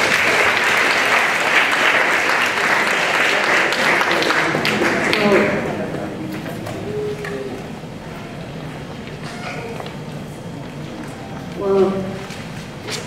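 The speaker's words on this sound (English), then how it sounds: "So can we give a big round of applause to all the parents here tonight?" Loud crowd applause for parents at a school graduation event, strong for about five seconds before fading into murmuring chatter and scattered voices, with a brief burst near the end.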